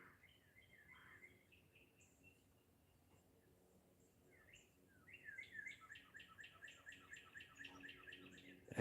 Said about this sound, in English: And them birds are going crazy today.